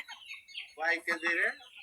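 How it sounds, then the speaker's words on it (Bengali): Backyard chickens and ducks at a rural home give short, close clucking and squawking calls in a few quick bursts over a quiet background. "এখন এই হাঁস মুরগি সব বাড়ি হয়েছে"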